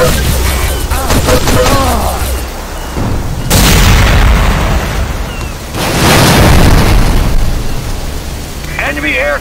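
Grenade blasts boom loudly in an Enemy Territory: Quake Wars match, two big broadband explosions several seconds apart over constant battlefield noise, and a shouted voice cuts in near the start.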